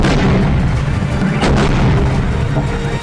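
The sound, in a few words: missiles striking Donetsk, explosions in news footage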